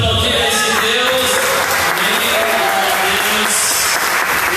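A Portuguese-speaking church congregation applauds during a sermon, loud continuous clapping with voices and cheering mixed in throughout.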